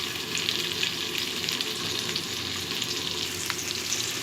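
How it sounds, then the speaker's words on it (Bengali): Chopped onion frying in hot oil in a pan makes a dense, continuous sizzle with occasional sharp crackles, close up and fairly loud, without speech. "তেলটা মোটামুটি গরম হয়ে গিয়েছে। এখন এর মধ্যে আমি পরিমাণ মতো পেঁয়াজ কুচি দিয়ে দিচ্ছি।"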